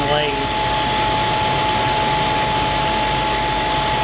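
An internal grinder whines steadily while finishing a metal adaptor machined from a 3/8 bolt, a loud continuous high-pitched tone over broadband grinding noise, with a voice speaking beneath it.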